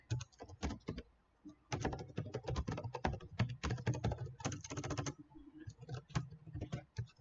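Someone types PHP code on a computer keyboard in fast, uneven bursts of close clicking keystrokes, with one brief pause early on, and no talking.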